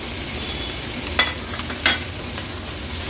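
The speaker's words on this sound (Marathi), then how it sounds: "हे खुबे आहेत जे आपण निवडून घेतलेले ते ऍड करूया" Clams (khube) being stirred into sautéed onions in a pan, giving a soft steady sizzle with two sharp scraping stir strokes close by.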